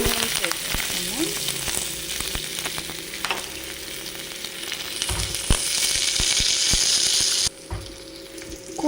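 Onions sizzle steadily in a hot pan for a Rayalaseema-style egg curry, a soft continuous crackle broken by clinks and scrapes of a spoon stirring against the metal.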